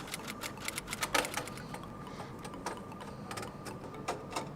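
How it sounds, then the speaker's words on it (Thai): Screws are tightened into a computer motherboard during a PC build, six in all, with a run of sharp, irregular mechanical clicks and ticks close by. "ในเมนบอร์ดตัวนี้จะมีน็อตทั้งหมด 6 ตัว เราต้องขันให้ครบนะคะ"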